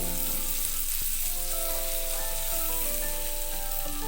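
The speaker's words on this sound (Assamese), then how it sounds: "এতিয়া মই এইখিনি ইয়াতে অলপ চতে কৰি ল'ম।" Chopped capsicum sautés in a hot pan, a loud, continuous close-up sizzle with a faint tap or two of a utensil and no voices.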